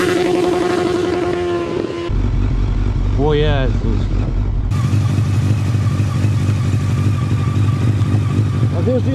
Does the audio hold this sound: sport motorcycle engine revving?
yes